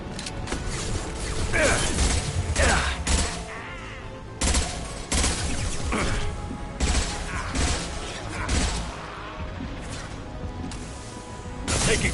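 Weapons firing in a video game: repeated bursts of heavy gunfire and crashing mechanical impacts in irregular clusters, loud and close, with metallic clanks between the volleys and no talk.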